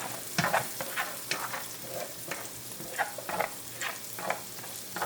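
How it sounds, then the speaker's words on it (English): Onions softening in a pan for a marry-me chicken tortellini dish, giving a steady low sizzle with scattered crackles and occasional stirring scrapes, close and moderately quiet, with no talk. "We're just going to cook this for a few minutes until the onions are translucent, well, softened, and fragrant."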